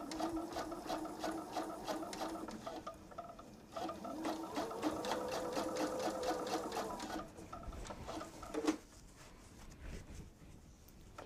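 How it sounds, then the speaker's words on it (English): A sewing machine runs a top stitch along fabric on a wine tote, a fast, steady mechanical chatter close by that pauses briefly and resumes, then stops near the end. "make sure to keep your fabric pulled apart so you get a nice sharp top stitch."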